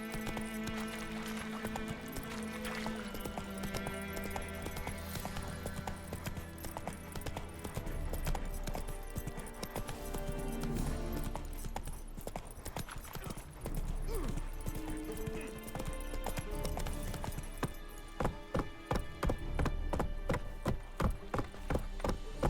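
Rhythmic hoofbeats of a horse galloping in The Witcher 3, running steadily through the whole stretch under a dense game soundtrack, with a brief snatch of voice.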